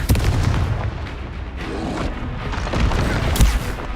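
A Confringo spell explosion in the video game Hogwarts Legacy bursts loudly, a dense booming blast with rumbling low end and crackling debris that continues for several seconds.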